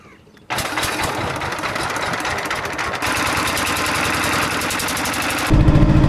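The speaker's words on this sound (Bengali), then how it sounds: "প্রিয় দর্শক আমাদের ট্রলার এগিয়ে যাচ্ছে সামনের দিকে" A trawler boat's engine chugs loud and steady on the Meghna river, kicking in abruptly and running continuously with a rapid mechanical putter that grows slightly louder and rougher toward the end.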